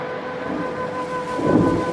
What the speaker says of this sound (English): Then it began to rain